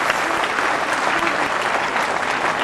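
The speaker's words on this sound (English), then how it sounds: "I think they all need a big applause." Loud, dense applause fills a school annual function as the audience claps for the fourth-grade children's performance. It is continuous and even from start to finish, with a faint crowd murmur underneath.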